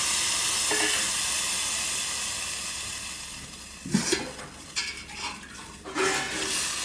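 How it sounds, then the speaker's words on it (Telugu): Tomato pulp frying in oil in a pan for tomato rasam: a steady soft hiss of frying, then a few sharp clinks and scrapes of a utensil against the pan near the end. "ఈ టమాటో గుజ్జు కూడా నూనెలో ఒక రెండు నిమిషాల పాటు వేయించుకుని"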